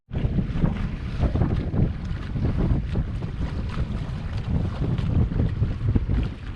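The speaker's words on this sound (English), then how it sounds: "We got a nice 8 to 10 knots of wind" Steady 8 to 10 knot wind buffets the microphone aboard a sailboat near Upper Island, a dense, continuous rumble and rush mixed with water noise and no voices.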